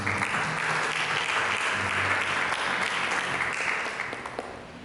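A church congregation applauds in a steady, dense wash of clapping that holds evenly for several seconds and then tapers off slightly toward the end, with no voices over it.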